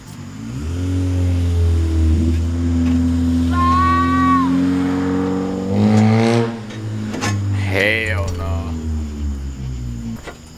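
A car engine drones nearby and swells as it passes, its pitch sliding, with a voice speaking briefly over it.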